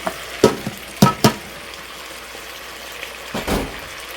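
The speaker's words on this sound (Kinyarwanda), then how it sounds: "Aha niho tugiye gushyiramo ibitunguru." Chopped onions tipped into a hot pan, hissing and sizzling steadily, with a few distinct clatters of a spoon or pan scattered through, and no talking.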